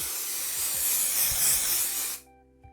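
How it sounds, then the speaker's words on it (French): An aerosol can of spray adhesive is sprayed onto the felt backing of a tufted rug, giving a steady, close hiss that lasts about two seconds and then cuts off sharply, followed by quiet. "tu peux prendre ta bombe et asperger toute la surface visible de ta feutrine"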